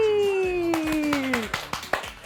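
Kindergarten children clap after a song, a few scattered, uneven claps that grow sharper toward the end, following a sustained sung voice that fades out.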